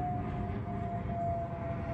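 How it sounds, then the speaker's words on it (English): A fixed-wing airplane passing overhead, a steady low broadband rumble with a faint sustained whine, continuous and moderately distant throughout, with no talking. "Airplane going by."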